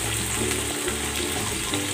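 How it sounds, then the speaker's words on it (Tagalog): Shrimp-head soup stock pours steadily into a pot in a home kitchen, a continuous close splashing wash with a faint sizzle underneath, no talking. "Ilalagay ko na itong soup stock"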